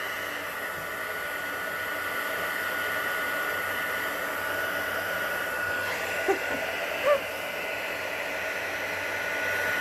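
A heat embossing tool blows hot air steadily over a card in a crafting session, a continuous even whooshing hum held close for the whole stretch, with a couple of faint clicks near the end and no talk.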